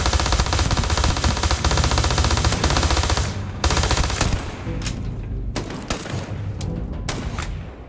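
Enemies opening fire in the space game Starfield, a loud dense machine-gun burst that breaks into separate sharp shots and distant booms.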